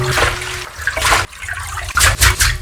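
Red shiso leaves get rinsed in water for pickling umeboshi, with close splashing and sloshing in uneven bursts, a short pause, then renewed swishing.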